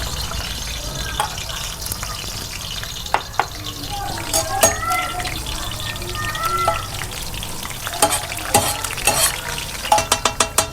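Onions frying and being stirred in a pan for kaleji masala, a steady close sizzle broken by scattered scraping spatula clicks that grow busier toward the end, with a little talk underneath.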